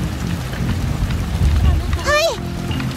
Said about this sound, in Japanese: 雨は気にせんぞ。